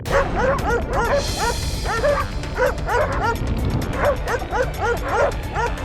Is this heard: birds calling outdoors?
no